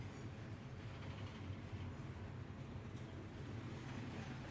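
Steady low rumble of a moving train interior in Final Fantasy XV, a dense, continuous rolling drone with faint higher hiss, even and unbroken throughout, with no voices.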